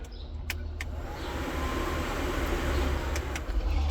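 New blower motor running on a John Deere 7410 tractor, a steady whirring air rush close by with a few faint clicks at the start.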